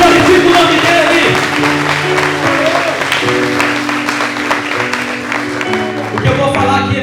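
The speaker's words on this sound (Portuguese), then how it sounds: "Dá um forte aplauso para Jesus aí, vai! Aplaude o nome dEle" A church crowd claps loudly and continuously while music plays with sustained tones underneath.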